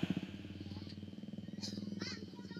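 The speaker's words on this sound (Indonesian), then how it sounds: "Motor apa itu? Kencang amat." A fast motorcycle revs loudly nearby, its throbbing engine note rising as it passes, with a voice speaking over it.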